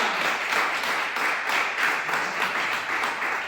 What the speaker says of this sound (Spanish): ¿Le puede dar un aplauso a Cristo?